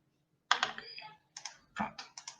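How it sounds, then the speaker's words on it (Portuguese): Quiet typing on a computer keyboard: short bursts of clicking keystrokes separated by brief pauses, close and soft, with no talking. "escrevi Gouveia, selecionei o texto, dei um espaço, escrevi Tavares"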